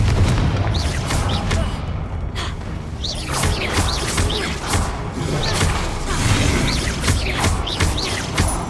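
A Confringo blasting spell goes off in Hogwarts Legacy, with booming blasts and thuds over dense, loud combat noise and a few brief vocal sounds throughout.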